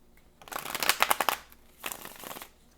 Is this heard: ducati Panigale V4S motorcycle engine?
no